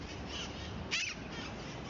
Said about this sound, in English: Wild parrots are arriving from all corners of San Francisco.